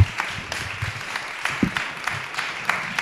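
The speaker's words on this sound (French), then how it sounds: "On peut vous applaudir hein, tous les trois pour votre intervention." Audience at a French conference on communication and sobriety claps for three round-table speakers, a brief, moderately loud burst of scattered hand claps in a room, with no voices over it.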